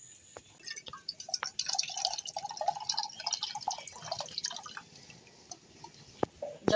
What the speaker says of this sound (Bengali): এবার আমি এই ডাব থেকে এই জলটা বের করে নেব